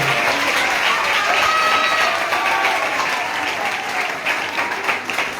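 A church congregation claps loudly and steadily at a blessing, a dense continuous wash of applause that turns slightly more uneven toward the end.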